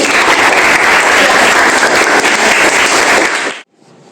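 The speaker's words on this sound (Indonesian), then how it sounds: "beri aplaus pada Mas Dhani" An audience gives Mas Dhani a dense burst of clapping during a classroom role-play of an Islamic marriage contract, loud and steady for about three and a half seconds before cutting off abruptly.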